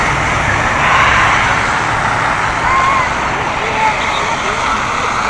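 Traffic rumbles steadily along a frigid city street in Yakutsk at minus forty, broadband road noise from cars and trucks passing close by, with no clear gaps between vehicles.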